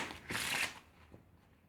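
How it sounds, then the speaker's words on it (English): A deck of playing cards is shuffled close up in a quiet room, one brief riffling burst lasting about half a second, followed by a faint soft card sound. "while you're shuffling the cards"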